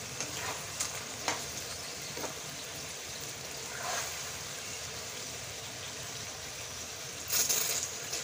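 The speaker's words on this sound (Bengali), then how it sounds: "দেখেছো কুল ফাটতে শুরু করেছে।" Jujube fruits cooking in melted jaggery for a pickle, a soft continuous sizzle and bubbling with scattered small pops and crackles as the fruits burst, one sharper burst near the end, no talk over it.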